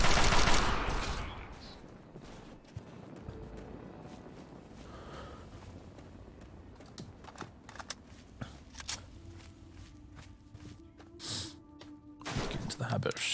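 Gunfire at robots in the video game Fallout 3, a scatter of sharp shots and short bursts spread through the scene, with a dense cluster at the start and more near the end, under a player talking.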